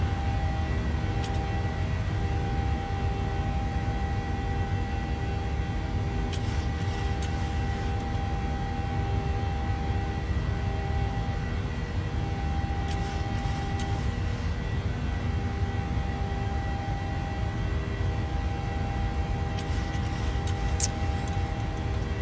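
A PMDG 737-700 airliner climbing out in a flight simulator game, its engines a steady mid-level cabin drone with faint tonal whine and occasional brief clicks, no talk.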